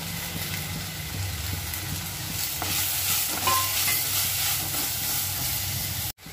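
Steady sizzling of tomatoes frying in a pan, with scraping stirs and occasional clinks of a utensil, close and continuous without talk.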